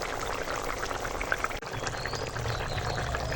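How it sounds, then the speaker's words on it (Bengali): Fish curry with spinach simmering in a pot, a steady bubbling, hissing liquid sound at a constant close level with a brief dip partway through and no voices. "মাছটা দিয়ে একটু ফুটিয়ে নেব"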